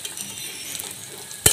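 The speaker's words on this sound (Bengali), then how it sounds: "পেঁয়াজটা ভাজা ভাজা করতেছি" Onions frying in oil in a wok, a steady soft sizzle throughout, ending in a sharp metallic clink near the close.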